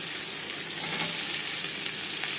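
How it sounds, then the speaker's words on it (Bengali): Chopped onions fry in the oil left over from frying silver carp, producing a steady, even sizzle that carries on without a break and with no voices. "মাছ ভেজে নেওয়া তেলে দিয়ে দেবো পেঁয়াজ কুচি।"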